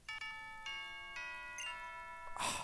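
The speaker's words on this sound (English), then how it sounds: "I love that little bell." Small chime from Pokemon Moon ringing in a series of clear, evenly spaced bell tones with lingering harmonics, followed by a burst of noise at the end.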